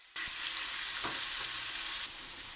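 Water splashed around the edge of a hot wok of stir-fried winter melon hits with a sudden loud hiss, then a steady, bright sizzle continues close by with a few faint clinks.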